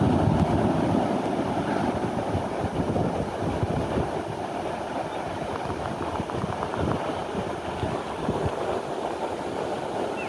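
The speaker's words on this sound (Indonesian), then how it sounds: "Ini ombak cukup tinggi ya Bapak Ibu ya." Large ocean waves roll and break in a steady, loud wash of surf, mixed with gusty wind buffeting the microphone, continuous and close with no voices.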